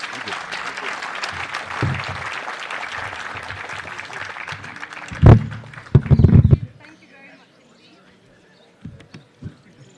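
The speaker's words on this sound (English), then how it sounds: "Can we have a round of applause, please, for them?" A literature festival audience applauds panelists with thick, continuous clapping that thins out after several seconds, with a couple of heavier thumps near the end and scattered faint claps trailing into quiet.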